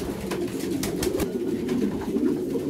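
Domestic pigeons coo nearby in a loft, low repeated throaty calls rolling on over a soft background with a few light clicks and shuffles.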